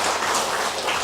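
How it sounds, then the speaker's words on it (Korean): A church congregation applauds during a Sunday worship service in Daegu, a brief burst of dense, steady clapping filling the room throughout. "우리 고맙습니다 하는 마음을 박수 한번 합시다"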